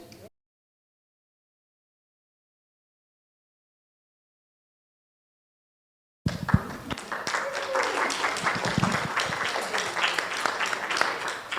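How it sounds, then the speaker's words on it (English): Audience applause at a voting panel event: a steady wash of clapping starts suddenly after several seconds of silence and holds at moderate loudness, with a few voices mixed in. "I'm sure that applause was both for Yellopain and our technology experts, right"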